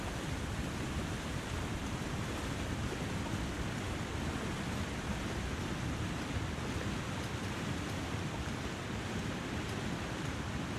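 A continuous video-game waterfall, a dense, unbroken roar of rushing water that holds at a constant moderate level throughout, with no voices.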